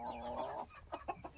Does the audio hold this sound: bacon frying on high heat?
no